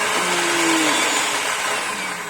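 A kitchen blender grinds cassava and onion for galette dough with a loud, constant whirring roar that shifts slightly in pitch as the blades work through the mash, with no voices.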